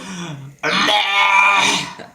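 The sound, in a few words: person imitating a cow mooing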